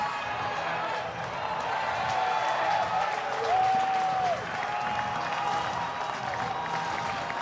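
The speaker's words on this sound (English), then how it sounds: "Crowd comes to their feet here at the Condren Ballpark" Baseball crowd at Condren Ballpark during a Florida State vs Florida college game rises to its feet, sustained applause and cheering at moderate distance, swelling in the middle, with a faint whistle-like tone and murmuring voices mixed in.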